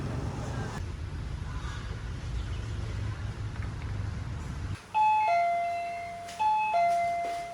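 A doorbell chimes twice, bright electronic ding-dong tones ringing out clearly after a stretch of steady outdoor rumble and wind.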